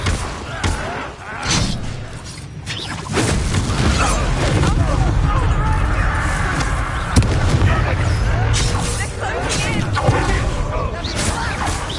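Incendio fire spells in Hogwarts Legacy burst as repeated booming explosions and crackling blasts. The rumbling din is loud and close and runs nearly without pause amid battle noise.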